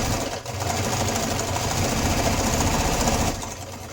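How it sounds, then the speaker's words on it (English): A sewing machine runs steadily while stitching fabric silverware holders, a loud, continuous rapid whir of the needle that starts abruptly and stops just before the end. "put my needle down, turn, and keep sewing"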